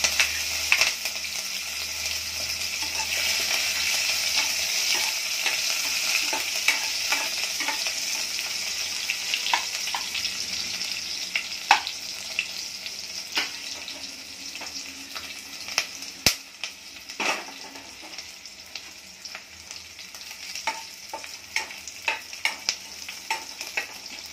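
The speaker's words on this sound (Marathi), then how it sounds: "नंतर आपण लसूण आणि हिरवी मिरची टाकायची." Garlic and green chili fry in hot oil in a pan, a continuous moderate sizzle with scattered sharp crackles and spatter pops, heard close and without speech.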